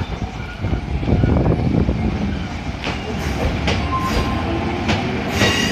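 An electric commuter train bound for Ōkawa rolls past close by at Kokudō Station on the Tsurumi Line, a steady rumble with rhythmic wheel clatter and occasional metallic squeals.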